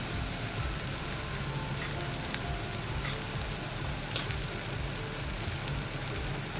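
Mutancana, an Ottoman palace-cuisine dish, sizzles steadily in a pan after a splash of vinegar, with faint scrapes of stirring over a continuous loud frying hiss and no voices.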